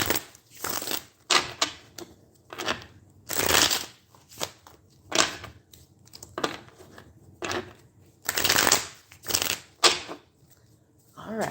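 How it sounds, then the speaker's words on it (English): A deck of tarot cards riffled and shuffled several times in quick bursts, close and crisp, with brief pauses between shuffles. "Got a couple of good shuffles here."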